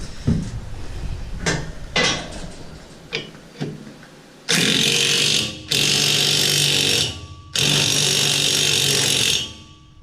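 A wrench works a pinch-type lock nut on a combine during reassembly, giving a few scattered metallic clinks and taps, then three long, loud grinding bursts of a power tool with short pauses between them.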